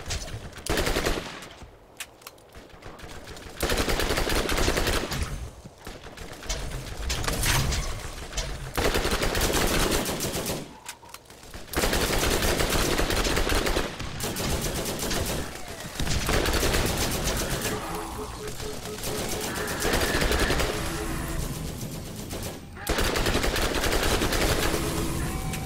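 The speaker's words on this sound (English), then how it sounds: "I have the feeling that even at distance, the SMG performs better." Rapid SMG gunfire in a Borderlands firefight, loud sustained bursts of automatic shots broken by short pauses, with other weapons firing in the mix and no talk over it.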